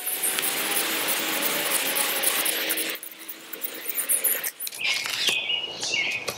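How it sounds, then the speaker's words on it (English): Sharp bushcraft knife shaving feather sticks from a piece of oak, a close, steady dry scraping and rasping for a few seconds, then a brief pause and a few more uneven, crackling cuts. "I'm not really great at making feathers out of oak because it's not the best feather wood, but with a sharp knife,"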